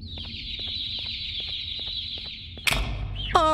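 Baby Opila birds in the video game Garten of Banban 2 give a long, steady stream of high, quick chirps that ends in an abrupt crash, followed by a rising squeal.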